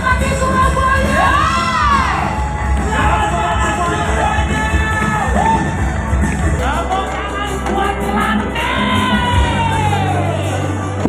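A large crowd at a Surabaya anniversary celebration event shouts, cheers and whoops loudly and continuously, with voices rising and falling over a dense roar of noise throughout.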